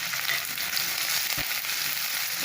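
Chopped big onions and curry leaves fry in hot oil in a pan for an okra and tomato curry, giving a steady, close, bright sizzle throughout.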